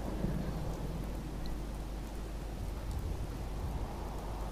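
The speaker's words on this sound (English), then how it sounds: "Especially on a day like this, which is pissing down with rain" Heavy rain pours steadily with a deep, low rumble of thunder beneath it, a continuous wet wash heard alone with no voices.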